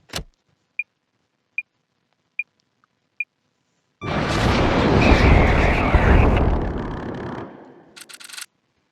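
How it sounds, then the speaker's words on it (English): A missile striking an enemy aircraft in a combat flight game: several short evenly spaced beeps, then a loud, broad roaring blast that swells and sustains for a few seconds before cutting off into brief crackles. "So sniper missile does hit"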